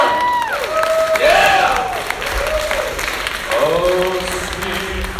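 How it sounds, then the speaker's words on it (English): A youth theatre audience breaks into applause and cheering at the end of a live play, with steady clapping throughout and a few loud shouts rising over the crowd. "can I have one final round of applause for America's next top failure?"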